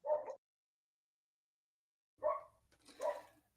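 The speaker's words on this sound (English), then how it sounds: "I don't know if you can hear my dogs going off in the background at the moment" Miniature schnauzer dogs bark in the background of an indoor room, one short burst, a pause of nearly two seconds, then two more yaps close together, fairly faint.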